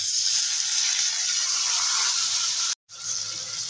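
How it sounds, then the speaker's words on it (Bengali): Water splashes into a hot pan of oil and fried potatoes for a fish kalia, giving a loud, steady hissing sizzle that breaks off abruptly for a moment before the bubbling resumes. "দিয়ে দেবো সামান্য একটু জল"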